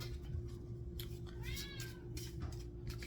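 A cat meows a few times in the middle of the stretch, its drawn-out harmonic cries rising and falling over a steady low hum, with no one talking.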